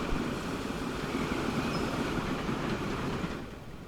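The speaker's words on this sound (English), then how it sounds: "it's probably the weirdest train probably the world has ever seen" A train in the game Transport Fever 2 runs past with a continuous rumbling, clattering roll, loud and steady before easing off slightly at the end.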